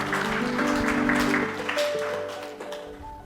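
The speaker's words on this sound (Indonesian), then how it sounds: "berikan tepuk tangan" Church congregation applauding after a sermon refrain, a dense wash of clapping under sustained organ or keyboard tones, moderately loud and fading slightly toward the end.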